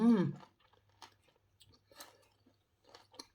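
Crunchy pickled wild garlic being chewed, a few crisp crunching bites close up and fairly quiet, followed by soft chewing noises.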